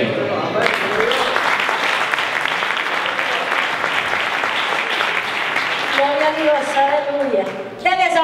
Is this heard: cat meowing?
no